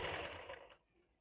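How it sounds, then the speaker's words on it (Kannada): A sewing machine stitches a blouse in a brief, soft whirring run that stops abruptly partway through. "ನೋಡ್ತಾ ಇರ್ರಿ, ಇದೇ ರೀತಿ ಸ್ಟಿಚ್ ಮಾಡ್ಕೋತಾ ಹೋಗ್ರಿ."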